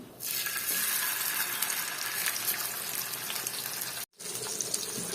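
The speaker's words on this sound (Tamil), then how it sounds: "இப்போ இதை பொரித்து எடுத்துக்கிடலாம்" Steady, dense sizzling of fish frying in hot oil, close and continuous, with a brief cut-out near the end before the crackle resumes.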